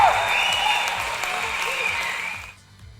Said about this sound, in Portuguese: Então, Pix, põe palmas aí nos fundos, porque agora eu tô até emocionado.